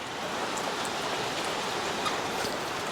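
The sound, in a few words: rain falling on a rainy day while fishing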